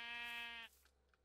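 A single sheep bleat from Minecraft, a sustained harmonic bleat lasting over half a second and then stopping abruptly, followed by faint low noise.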